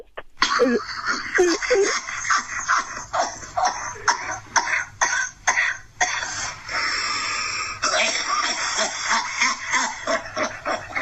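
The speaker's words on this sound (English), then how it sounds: "Then he starts blowing his nose in the middle of coughing." A man coughing and blowing his nose at the same time, a run of harsh rapid coughs mixed with snorting nasal blasts, close and fairly loud, in uneven bursts with brief pauses.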